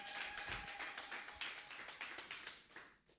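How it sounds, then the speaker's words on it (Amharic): A church congregation claps together in praise during a sermon, a dense run of rhythmic handclaps close by that fades toward the end. "ድገሙና እስቲ አጨብጭቡ ለጌታ ክብር"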